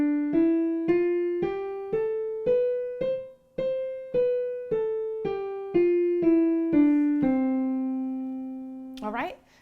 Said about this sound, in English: So if you don't remember what the major scale sounds like, it sounds like this.